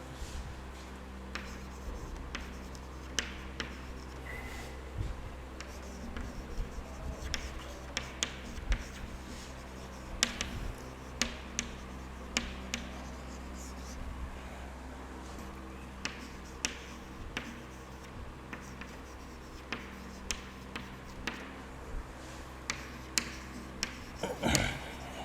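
Chalk tapping and scratching on a classroom board as a teacher writes out chemistry questions on the mole concept, an irregular run of faint ticks and short scrapes over a quiet room hum, with no voices.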